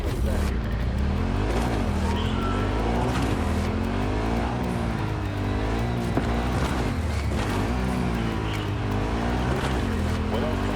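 A motorcycle engine in Cyberpunk: Phantom Liberty drones steadily and close, with repeated rising and falling revs every second or so under continuous game sound.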